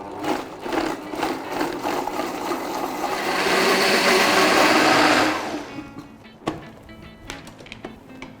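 A mixer grinder purées ripe mango into a smooth pulp, its motor whirring loud and close for about five seconds, rising to a dense steady roar before cutting off and leaving a few knocks and clatters.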